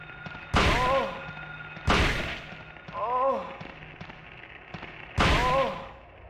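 Shotgun blasts in the horror video game Silent Hill, three heavy booming shots spaced about two seconds apart, each with a sharp attack and ringing decay, plus a brief creature screech between them.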